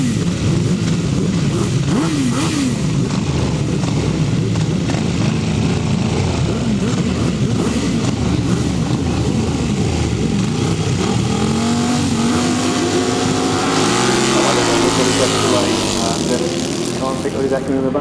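Several 1000cc racing sidecar engines roar continuously around a grasstrack during a heat, loud and sustained, with rising revs and a passing surge late on, under a commentator's voice.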